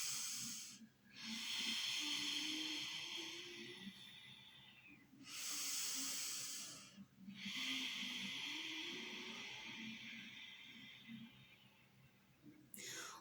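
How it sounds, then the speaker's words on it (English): Slow ujjayi pranayama breathing drawn in through the nose with a constricted throat, giving long, steady hissing inhalations separated by brief pauses, close and fairly loud with no talking. "So breathe in through your nose."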